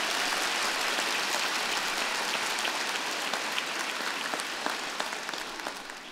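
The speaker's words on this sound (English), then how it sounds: "You can clap. Isn't it great?" A large audience applauds at a University of Toronto Scarborough spring convocation ceremony, a dense, steady wash of clapping that holds throughout and tapers slightly toward the end, with no voices over it.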